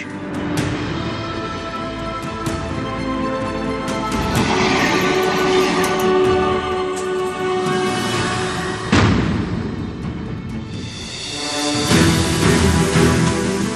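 A passenger train on the Sealdah–Lalgola main line runs past up close, loud rumbling and clattering wheels filling the whole stretch, with a horn blast and heavy rolling noise rising toward the end.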